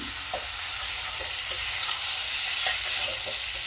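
Potatoes and chickpeas sauté in a pan with a steady, close sizzle, broken by soft scraping as they are stirred; no one speaks.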